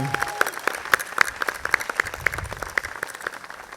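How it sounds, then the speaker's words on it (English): An audience at a Night in Oaxaca scholarship celebration gives a round of applause, with distinct individual claps steady and fairly close for several seconds. "Let's give Silveria and Eric another round of applause."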